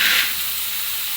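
Peanuts and onion roasting in hot oil in a pan, a soft continuous sizzle and hiss, close and steady, with no voices.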